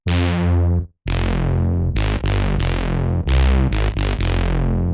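A thick, heavy Kronos synth bass without effects plays dry, repeated notes in a choppy rhythm, loud and close, with brief gaps between hits and no talking.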